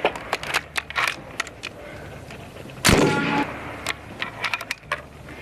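An AEA .50 caliber Challenger bullpup air rifle fired at targets outdoors, with one sharp loud shot near the middle amid scattered clicks and handling knocks.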